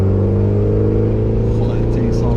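A tuned, high-mileage Mitsubishi Evo 9 MR engine holds a loud, steady, close rumble with a strong low drone throughout, while people talk over it.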